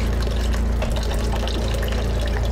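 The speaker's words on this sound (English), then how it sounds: "I actually like to use really hot water when I do this" Hot water runs over the parts of a marine water strainer, a loud, continuous close gush and splatter without speech.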